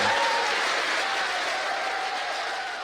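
Applause from a Rocket Lab mission control room as the Electron rocket's stage separates during the STP-27RD launch, a steady wash of clapping at moderate level that eases off slightly toward the end.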